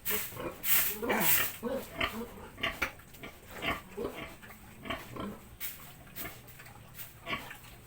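Pregnant sows in a pen give grunts and snorts at uneven intervals, nearby and moderately loud, with scattered clatter and rustle from the pen between the calls.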